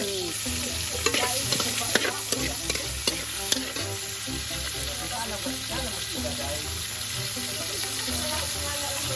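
Garlic and onion fry in a pan for Bam-e noodles, a close, steady sizzle with frequent stirring and the scrape of a utensil throughout.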